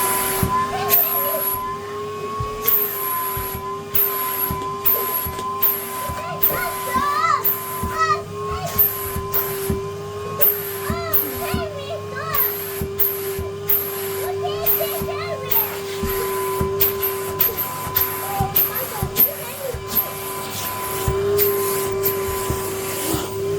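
A James toy-style vacuum cleaner hums steadily throughout, a constant motor drone with high whine, while children chatter and an adult talks over it.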